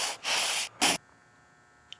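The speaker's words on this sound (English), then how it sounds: "let's see if I can trigger it on here by breathing on the sensor" Close breaths blown onto an air quality sensor: a long hissing exhale, then a shorter sharp burst, both loud and airy, followed by near quiet with a faint tick at the end.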